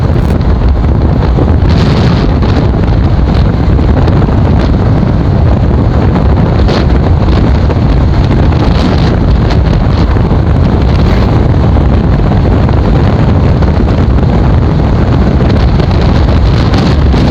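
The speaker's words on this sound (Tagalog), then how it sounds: "Malakas talaga yung hangin ngayon." Strong wind off a lagoon in Cataingan, Masbate, buffets the microphone in a constant loud roar, with no break for the whole stretch.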